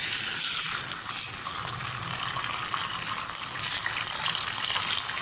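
Ginger garlic paste frying in a pan, a continuous hissing sizzle that holds steady and fairly close throughout, with no talk over it.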